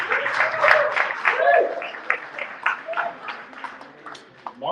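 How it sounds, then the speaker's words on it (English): Audience applause at a Crypto Mondays fireside chat, a loose patter of clapping from a modest crowd mixed with some voices, fairly close and fading toward the end. "Everyone give him a round of applause,"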